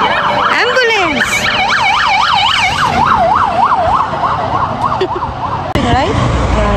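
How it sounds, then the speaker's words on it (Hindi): An ambulance siren wails close by in a fast, repeating up-and-down cycle, loud and continuous, with another siren tone cutting in briefly. "एम्बुलेंस"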